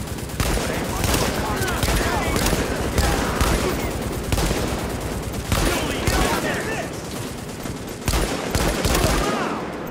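Sustained hostile gunfire in The Division, dense overlapping bursts and volleys running almost without a break, loud and close, with a few sharper peaks standing out.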